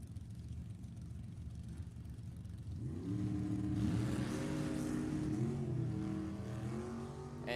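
Drag racing launch at a bracket race, a 1956 Austin-Healey and a 1967 Camaro leaving the line together, engines rising from a low rumble into a loud, climbing roar that holds steady with no talk over it.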